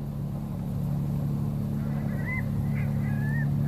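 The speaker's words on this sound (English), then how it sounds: "Man, that's one scary bird." In the adventure game The Journey Down, a bird gives a few short, loud honks over a constant low droning hum in the game soundtrack, and no one speaks.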